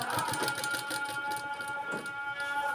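A sewing machine runs steadily for a few seconds, stitching a folded fabric edge. The motor hum and needle clatter are moderately loud and continuous, with no talking.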